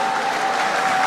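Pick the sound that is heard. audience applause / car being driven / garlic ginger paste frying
audience applause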